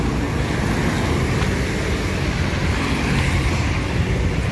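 Steady road traffic in Cikarang with small buses, an employee bus and school buses passing, forming a continuous, close broadband roar of engines and tyres with no pauses and no voices.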